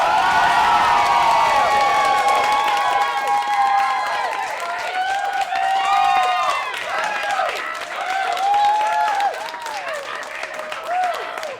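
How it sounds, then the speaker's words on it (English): A comedy show crowd erupts into loud applause mixed with cheers, whoops and shouting, sustained for over ten seconds up close. "what I want is all of you to erupt into thunderous applause"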